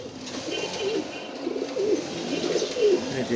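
Racing pigeons coo in soft repeated rolling calls, three or four distinct coos over a low background murmur, fairly close, with no speech.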